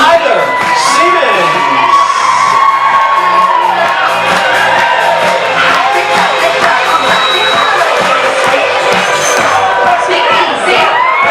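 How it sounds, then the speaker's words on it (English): Wedding reception guests cheer loudly as the maid of honor and best man are introduced, a sustained roar of shouts, whoops and excited voices from a close, packed crowd, with music and chatter underneath. "let's hear it for our maid of honor and best man, Corey Perkins and Tyler Siemens."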